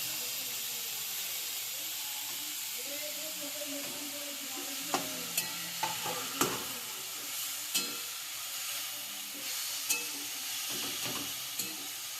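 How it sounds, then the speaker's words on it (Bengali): Cabbage stir-fried with chicken for momo filling: steady frying sizzle and hiss with scraping stirs and several sharp utensil knocks against the pan in the second half, fairly close and alone. "এবার আমি বাঁধাকপিটা চিকেনের মধ্যে দিয়ে দিচ্ছি।"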